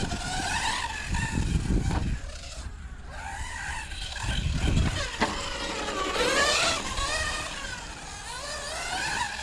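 Small motors whine and rev while tires squeal in bursts as a Hobao Hyper 10 SC 2.0 RC car on 2S power slides through turns on a carpet track, the sound rising and falling continuously.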